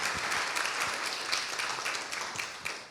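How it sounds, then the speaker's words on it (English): An audience applauds for a pastor, a short burst of many hands clapping that stays fairly loud and begins to fade at the end. "I'd like for us to give Pastor Paul a round of applause for making this happen today"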